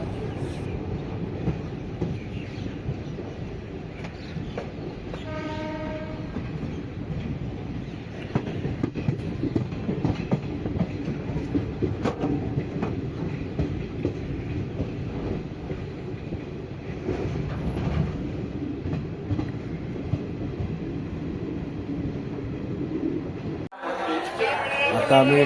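Passenger train rolling on rails toward Mathura station on a foggy, cold morning, a steady rumble and rattle of the carriage heard from inside with a brief tonal whine near the start and a sharp burst of noise near the end.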